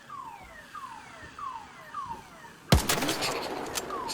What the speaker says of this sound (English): Had it set off the car alarm.